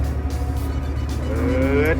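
A TCM 870-2 wheel loader drives along with a low engine drone that swells and climbs in pitch as it moves up through the gears, with someone talking over it.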